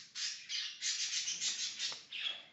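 Two pet parakeets squawk in a rapid series of harsh, bright calls, about eight bursts in quick succession, faint and indoors in the background.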